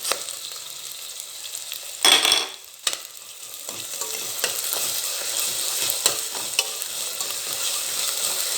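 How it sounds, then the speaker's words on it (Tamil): Ginger garlic paste fries with onions in oil and ghee, giving a steady close sizzle with a brief louder burst as it hits the pan, then continuous crackling and spitting. "அடுத்து நான் இஞ்சி பூண்டு பேஸ்ட்டு போடுறேன்"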